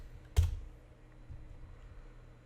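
A single sharp clack of a key struck on a computer keyboard, close and crisp, followed by a low steady room hum with no further keystrokes.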